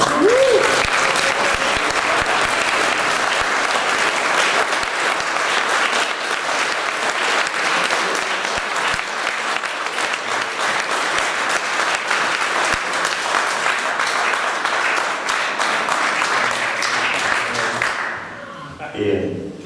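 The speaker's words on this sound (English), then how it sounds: "I've got the biggest round of applause of the night." A large crowd at a 2019 South Cambridgeshire election hustings applauds loudly and steadily for a long stretch, the clapping dense and sustained before fading out abruptly at the end.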